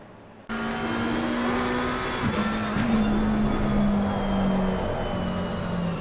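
Porsche GT Challenge race car engines roaring continuously in a sim racing game at Monza, a loud sustained drone with shifting pitch and a brief rev change partway through, alone without talk.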